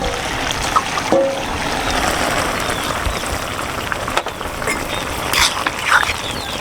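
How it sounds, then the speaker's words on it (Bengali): Water is poured into a cooking pan of boiled bottle gourd, making a continuous splashing, trickling wash of sound with a few small clinks. "আমি লাউয়ে অল্প একটু জল দেব।"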